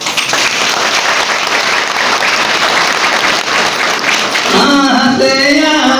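Applause at a Hindi-language oath-taking (shapath) ceremony program, a dense steady wash of many hands clapping throughout, with a voice speaking near the end over the clapping.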